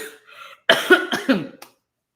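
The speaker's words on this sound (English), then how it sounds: "let me breathe and let me cough a little bit." A few close, forceful coughs in quick succession, preceded by a softer throat-clearing sound, then silence.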